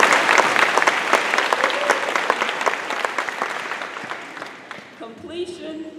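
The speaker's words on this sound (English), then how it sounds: "Yes, you can clap for that." An audience at a school district dedication ceremony for a new elementary middle school claps loudly, the applause gradually thinning and fading before a speaker's voice returns at the end.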